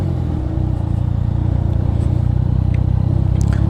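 A Yamaha MT-09 motorcycle engine idling steadily and close, with a loud, even low rumble throughout.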